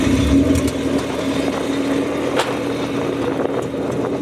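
A Honda K24/K20 all-motor car engine runs loudly and close by, a steady deep drone that swells slightly, with no voices over it.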